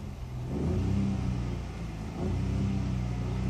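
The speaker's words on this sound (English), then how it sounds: "It's got a rev limiter, as you can hear." A 2014 Ford Fiesta 1.0 EcoBoost engine revs up twice to its rev limiter, rising and holding at a high rumbling pitch each time, muffled and steady.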